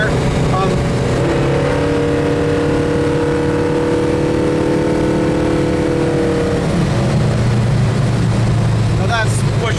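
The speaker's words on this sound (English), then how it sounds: "That exhaust sounds good." A 1970 Pontiac GTO muscle car drives at speed down a straight road, its exhaust a steady, loud, droning rumble with a tonal engine note that holds and then shifts lower near the end. People talk over it.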